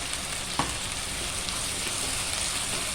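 Chicken with fenugreek sautés in a pan, producing a dense, continuous sizzle with one brief clink of stirring near the start and no talking.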